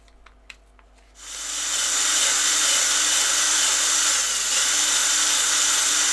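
A power drill spins up on a woodturning sunburst-textured bowl after a few small clicks, then settles into a loud, steady, high whirring drone that runs to the end.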